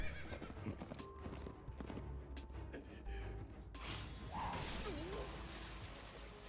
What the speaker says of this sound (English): Well, there goes the horse.